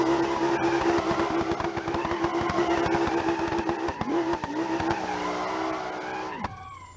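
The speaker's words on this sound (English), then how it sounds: "Does it do burnouts in reverse really good?" Quad turbo car in BeamNG.Drive doing reverse burnouts on a runway, a loud continuous engine roar with steady tire squeal and skidding, the pitch shifting near the end as the revs drop.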